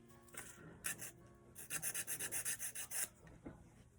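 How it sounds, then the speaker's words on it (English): Air dry clay petals are sanded by hand in short, quiet rasping strokes, a few separate rubs followed by a quick rhythmic run of about ten scrapes close up. "get some of these petals sanded down"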